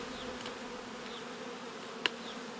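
Honey bees hum softly around a Ukrainian-Alpine style beehive, a faint, steady buzz with a single brief click.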